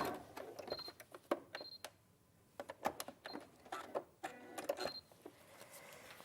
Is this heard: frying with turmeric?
no